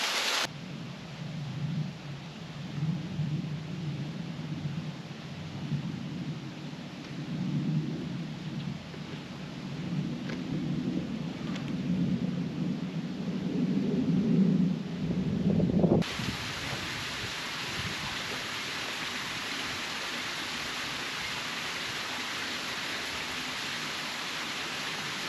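Small waterfalls tumbling through a moorland clough on Anglezarke Moor, a steady broadband rush with a lower churning tone that swells slightly, then shifts to a brighter, even wash of water partway through.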